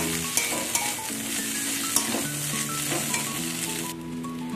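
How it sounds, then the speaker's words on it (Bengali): Deboned fish pieces sizzle and fry in a pan while being stirred, made for homemade fish fingers. The frying hiss is steady and close, with occasional sharp stirring clicks and a faint tonal hum behind, with no speech. "সব একসাথে ভালো করে আমি একটু নাড়াচাড়া করে ভাজা ভাজা করে নেব।"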